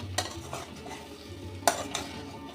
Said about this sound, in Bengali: মশলা দিয়েও ভালো করে আর একটু কষিয়ে নেব।